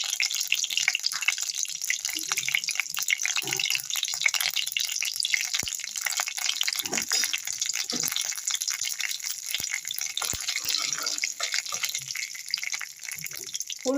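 Black cumin (kalonji) seeds hitting hot oil while a South Indian-style four-lentil dal is cooked, as a steady, bright hiss of sizzling that keeps up throughout, with a few faint clinks and small bursts of crackling.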